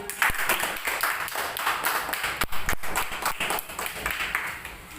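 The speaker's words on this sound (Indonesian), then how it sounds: "tepuk tangan untuk kelompok 1" Applause from a classroom group, irregular claps and taps spread through the room, fairly close, with some light background chatter.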